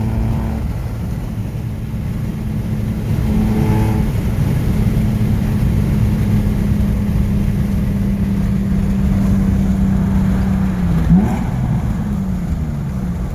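A Nissan 350Z fitted with an eBay replica exhaust holds a loud, droning rev inside a tunnel, its steady boom echoing off the walls before the pitch drops and fades near the end.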